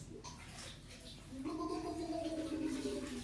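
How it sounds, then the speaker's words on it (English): A child blows bubbles in bathwater, a low gurgling bubble noise that grows louder and steadier partway through, heard faintly from another room beneath a speaking voice. "All I can hear is my son in the bathtub blowing bubbles."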